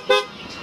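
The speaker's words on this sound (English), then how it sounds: "Loud horn." A car horn in a mechanic's shop gives one short, loud, close toot, followed by faint room noise.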